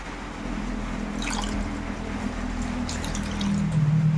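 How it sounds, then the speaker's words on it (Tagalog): Water poured into a cooking pot while making tuna paksiw with pork, a steady trickling, splashing pour heard close up throughout, with no talking. "Lagyan natin tubig."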